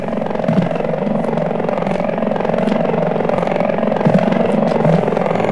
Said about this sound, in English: it isn't, because there's a helicopter.